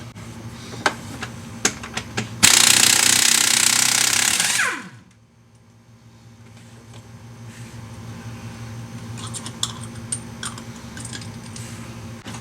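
An impact wrench removes the crank bolt on a 2008 Ford F150 with the 5.4 engine: a loud sustained burst of hammering rattle runs for about two seconds and then winds down, set between quiet shop clicks and taps.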